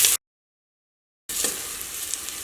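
Onions fry in a pan until golden for a beef curry, giving a close, bright sizzle that cuts out to total silence for about a second before the steady crackle returns.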